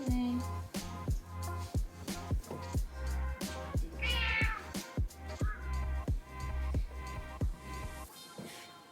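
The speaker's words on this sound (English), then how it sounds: "Hold on, my cat's trying to get out." A house cat meows again and again while trying to get out of a room. The cries are close and come in a quick, uneven series, mixed with rhythmic thumps, and no one speaks.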